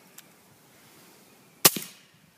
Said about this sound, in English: The Blackout we're shooting on it's a H&R Handy rifle, subsonic, with a Liberty Freedom Magnum